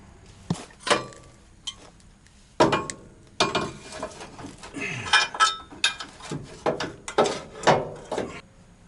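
A bracket being fitted onto a 4x4 shuttle camper, heard as scattered metallic clinks, knocks and rattling handling sounds in irregular bursts, close by and without speech.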